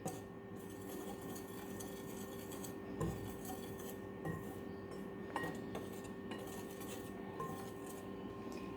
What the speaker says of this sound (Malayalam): ഇനി ഇതൊന്ന് നന്നായി മിക്സ് ചെയ്ത് കൊടുക്കാം നമുക്ക്.